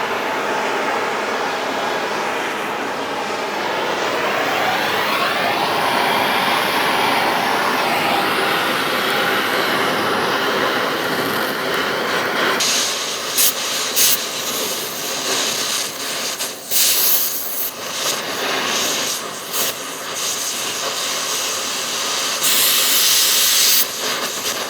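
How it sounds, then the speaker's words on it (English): A torch roars with a continuous loud hiss while heating rusted exhaust bolts on the catalytic converter of a 2004-2008 Acura TL, later broken by sharp crackling bursts and flares. "We're going to go ahead and use our torch to blow the bolts off and remove our cat."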